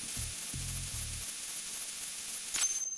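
A coolant spray in Metal Gear Solid 2 gives a steady, moderately loud hiss, with a few low mechanical hums early on and a brief sharp burst near the end.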